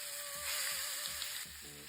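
Marinated chicken hits hot sesame oil with cinnamon, clove and fennel in a pan, giving a close, steady sizzle and hiss that runs for the full two seconds, with a faint whistling tone over it.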